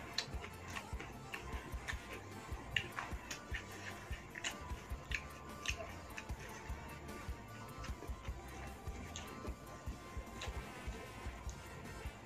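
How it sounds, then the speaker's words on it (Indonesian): Close, quiet chewing of rice mixed with shredded tuna during a mukbang meal with jengkol: soft, continuous moist mastication with small crunchy clicks at a steady rhythm. "nasinya dicampur sama ikan tongkolnya kayak gini. Baru kita kunyah."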